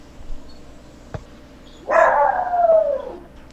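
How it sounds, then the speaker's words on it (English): A dog gives a single drawn-out howl that falls in pitch, fairly loud and slightly distant against quiet room hum, heard in the background of an online call with no talk over it. "And that's not my dog."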